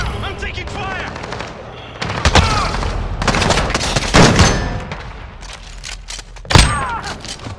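Shotgun and other gunfire in a Call of Duty Modern Warfare gunfight match, with sharp loud blasts and bursts near the 2, 4 and 6.5 second marks over constant in-game combat noise.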